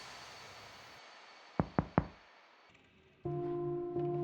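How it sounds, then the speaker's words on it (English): Three quick, sharp knocks on a door land close together in a quiet room, followed by a low steady hum that swells in afterward. "and then a knock at the door."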